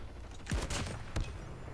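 Gunfire in the mobile shooter game Call of Duty Mobile, two sharp, loud bursts about half a second apart over a steady game background, with no talking.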